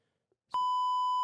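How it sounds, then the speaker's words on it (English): A censor beep cuts in as a loud, steady tone that holds to the end, right after a brief bit of sound. "I definitely just beeped out you saying spoiler time."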